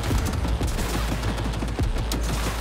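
Rapid gunfire from the video game Cyberpunk 2077: a dense, loud stream of overlapping shots with a heavy low thud, running continuously for a couple of seconds with no talk.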